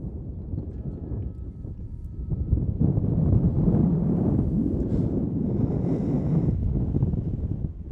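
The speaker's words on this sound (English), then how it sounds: "that wind is amazing. It's gonna add at least a 30 mile an hour gust." Strong wind gusts across an outdoor soccer field at a boys' high school match, a loud continuous roar buffeting the microphone and swelling in the middle, with no talking over it.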